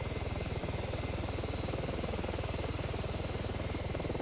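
Rapid rhythmic rotor thump and engine drone of a helicopter in the video game ArmA 3, steady and close throughout.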